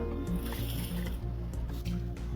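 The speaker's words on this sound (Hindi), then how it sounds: "तो चलिए दोनों साग को धो लेते हैं अच्छे से 4-5 पानी से" Mustard greens and spinach are rinsed in a container of water, with wet squishing and sloshing as the leaves are squeezed and swirled by hand in a steady rhythm.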